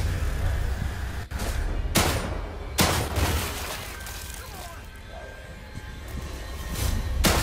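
Gunfire in the survival horror game The Evil Within 2, several loud sharp shots and crashing impacts spaced irregularly over a rumbling background, with a voice speaking between them.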